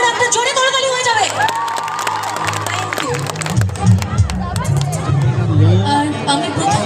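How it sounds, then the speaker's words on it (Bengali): A college audience at a stage event cheers and claps in a lively, continuous crowd roar, with a loud voice carrying over the noise at the start and shouts scattered throughout. "এই কলেজের জন্য আবার একটা জোরে করতালি হয়ে যাবে"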